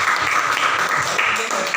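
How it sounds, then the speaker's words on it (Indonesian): Schoolchildren in an elementary school classroom clap their hands together, a steady dense patter of many small hands lasting the whole moment, fairly close and loud with no talking over it. "Tepuk tangan bro."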